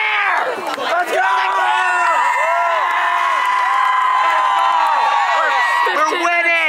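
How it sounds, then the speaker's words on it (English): A student section cheers and shouts at a homecoming high school football game, a loud continuous crowd roar with whoops and overlapping voices filling the whole stretch. "we got the whole student section up here. Cheer!"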